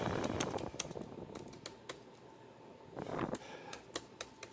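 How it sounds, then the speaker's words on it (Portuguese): Fingers tap on a computer keyboard, producing scattered crisp keystrokes in uneven bursts close by, with a steady fan-like hum underneath. "estou batendo aqui o teclado"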